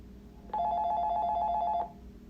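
A telephone rings in an office during a video game stream, a single steady electronic ring lasting just over a second over faint room noise.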